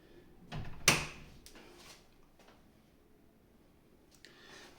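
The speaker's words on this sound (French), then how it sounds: "Je ferme la porte." An apartment door swings shut with one sharp thud, followed by fainter latch and handling clicks in a quiet room.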